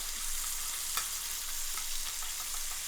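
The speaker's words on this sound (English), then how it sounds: "I'm gonna go skin side so I can get a good, wonderful, crunchy skin." Skin-on meat fries skin side down in a hot pan, giving a steady, dense sizzle with small crackles and pops, close and even throughout, with no talking.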